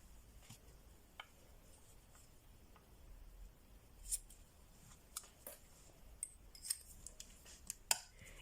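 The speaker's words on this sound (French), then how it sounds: "Je recoupe ici la longueur de mon ruban." Scissors snipping ribbon to length during paper crafting of a mini album, a few quiet scattered clicks and snips over a faint room background.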